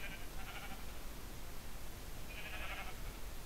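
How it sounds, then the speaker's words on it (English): Sheep bleat in Minecraft, two short nasal calls a couple of seconds apart, faint against a steady background hiss. "Come on, sheep."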